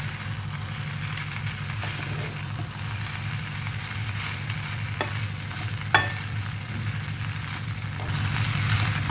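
Oil sizzles steadily in a pan with mustard seeds, green chilli, onion and curry leaves, a dense close hiss punctuated by a few sharp pops and spoon scrapes, with no talk.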